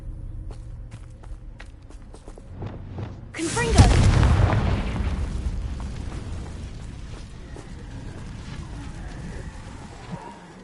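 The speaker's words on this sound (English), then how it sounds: "Bombarda!" A Bombarda blasting spell in Hogwarts Legacy detonates with a loud booming explosion after a few light footsteps, then rumbles and decays over several seconds.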